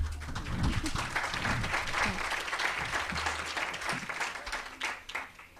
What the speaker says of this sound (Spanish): muchas gracias por el cálido aplauso de bienvenida